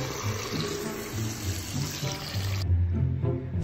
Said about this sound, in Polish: Dziwnie tu działają krany.